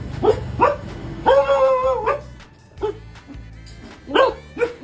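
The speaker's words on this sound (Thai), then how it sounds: "เห่าอะไร มึงเห่าอะไรมึงรอคนมาก่อน" Dog guarding the front of a shop, giving a few short close barks and yips with whimpering in between, loud bursts separated by brief pauses, no talk.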